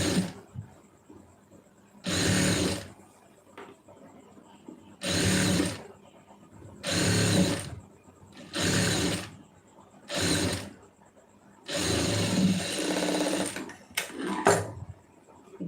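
A sewing machine stitching a lining blouse runs in about seven short bursts of rapid whirring, each a second or so long, separated by quiet pauses.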